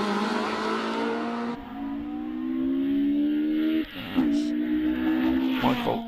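Lotus Elise race car climbing a hillclimb course at Prescott, its engine revving hard and rising in pitch through the gears, with a brief lift around a gear change before pulling strongly again, loud and fairly close throughout.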